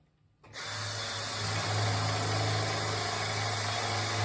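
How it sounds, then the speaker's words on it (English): A power drill bores holes for a DIY cemetery fence, starting up abruptly after a brief quiet moment and then running at a loud, steady whine with a low motor hum underneath. "We're coming back in, and we're going to drill some holes."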